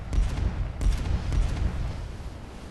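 Naval guns fire in a Warships Mobile multiplayer sea battle: two deep booming salvos with rumbling tails that fade into a low battle roar, and no voices.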